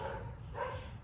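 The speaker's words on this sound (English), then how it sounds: "It's actually a dog" A dog by a tent outdoors at night, wearing a lit collar, gives two short barks about half a second apart, moderately close, with no talk over them.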